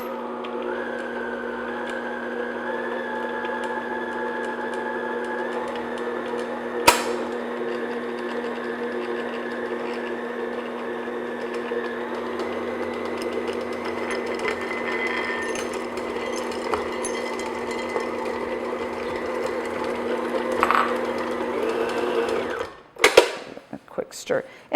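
An electric mixer beats flour into chocolate chunk cookie dough, a steady close mechanical whir running continuously before cutting off near the end.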